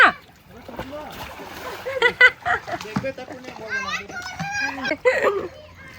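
Splashes of water burst out as children jump into water, amid children shouting and chattering excitedly, close by and lively.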